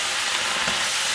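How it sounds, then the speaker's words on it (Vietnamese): Steady loud sizzling and hissing of watercress stir-frying in a hot pan, with faint stirring, continuous throughout. "Cái rau này mình xào vừa chín tới thôi."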